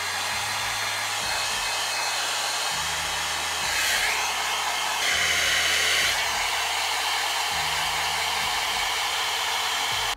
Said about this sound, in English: So get your blow dryer.